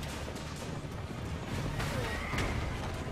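A horse neighs in the Assassin's Creed Brotherhood video game, a whinny rising over busy game noise with hoofbeats and crashes in the mix.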